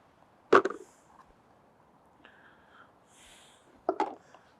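Two sharp, close snipping bursts of scissors chopping worms for fishing ground bait, about three seconds apart, with a faint scrape between them over quiet background.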